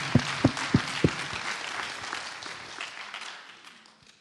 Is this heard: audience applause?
yes